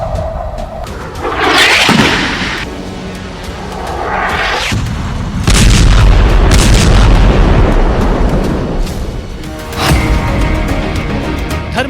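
Thermonuclear bomb blast rendered as a string of deep booming detonations, each followed by a long rolling rumble, with loud bursts around two, five-and-a-half and ten seconds and no voices.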